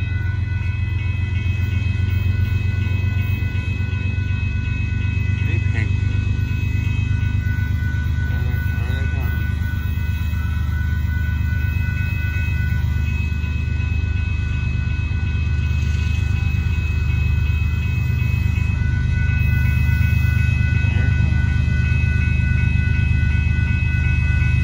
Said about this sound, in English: Comes that northbound Union Pacific boxcar train.